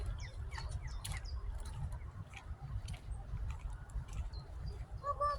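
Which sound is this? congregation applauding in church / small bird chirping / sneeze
small bird chirping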